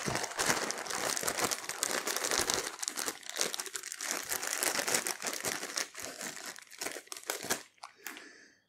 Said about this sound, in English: we're going to get things out of the bag